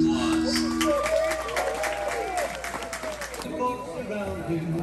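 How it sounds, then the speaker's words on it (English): A crowd claps for actors after a staged western gun show at a mountain tourist town, steady applause under an amplified voice that fades near the end. "Let's give our actors a big round of applause."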